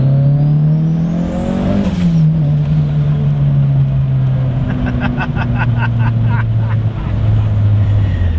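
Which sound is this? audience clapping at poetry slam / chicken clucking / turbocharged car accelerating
turbocharged car accelerating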